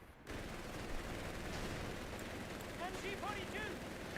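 MG42 machine gun fire in the Company of Heroes 3 battle game: a dense, continuous rattle of gunfire and combat noise that holds steady for several seconds, with sharp whistling effects near the end.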